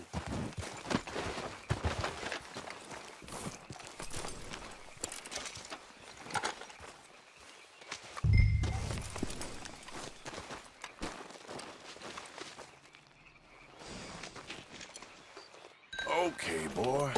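Horse hooves clip-clopping in Red Dead Redemption 2, a steady walking rhythm of sharp hoof clicks under a voice urging the horse on, with scattered rustling and a few louder thuds mid-way.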